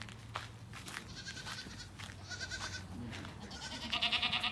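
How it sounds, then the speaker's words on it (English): Goats on a farm bleat repeatedly at close to medium range, several overlapping calls with wavering, nasal tones, growing louder and more insistent toward the end over faint outdoor background. "More goats. Lots of goats."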